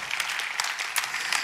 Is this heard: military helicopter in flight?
no